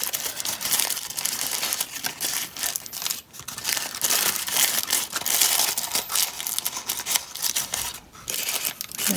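Paper crinkling and crumpling as a toilet paper roll ballerina craft's tissue dress is folded out, a steady close, dense rustle with brief pauses and no talking.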